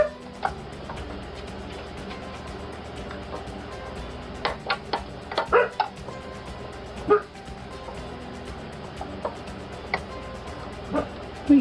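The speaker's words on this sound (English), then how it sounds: "What are you barking at?" A dog gives a few short, sharp barks and yips scattered across a kitchen setting, fairly close, over a steady background hum, with no speech.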